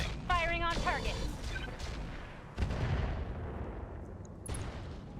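Mech weapons fire on a target in a strategy video game, heavy booming shots and blasts landing in uneven bursts with crashing impacts, while a synthetic voice and chirpy electronic tones sound early on.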